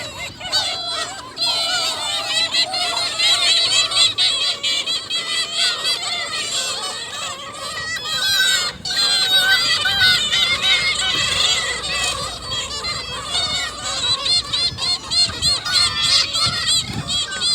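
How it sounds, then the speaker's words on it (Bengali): A flock of birds honks like geese outdoors on a cool, partly sunny day, a dense continuous chorus of overlapping calls at close range, loud and without pause. "সবসময় কিন্তু দেখবেন না এই পাখিগুলা"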